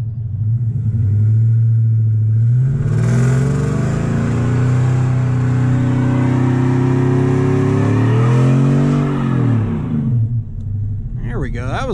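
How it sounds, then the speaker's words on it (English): A truck does a smoky burnout, its engine roaring loud and steady with rising and falling revs as the tires spin, the sound held close for several seconds before easing off. "That was a nice smoky burnout."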